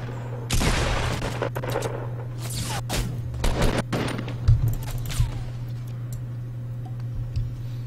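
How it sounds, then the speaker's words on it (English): Gunfire from the Fortnite video game: a dense burst of rapid shots near the start, followed by scattered single cracks and short volleys over a constant low electronic hum, with no talking. "Where are these shots even coming from?"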